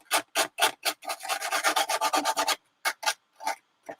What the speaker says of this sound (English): we're going to grab our sandpaper again, and I'm going to kind of rough up the surface of this little piece we glued on yesterday